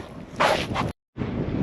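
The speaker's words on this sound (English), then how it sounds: "It's really windy, so you can't really hear me too well." Strong gusts buffet the microphone on an outdoor hike, a rough, roaring rumble that swells briefly, cuts out to near silence for a moment, then returns steady.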